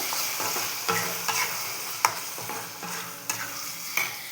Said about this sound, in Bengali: মুরগি ভাজা হচ্ছে